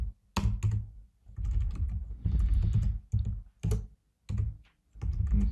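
Fast, close typing on a computer keyboard comes in bursts of clicking keys, separated by short pauses.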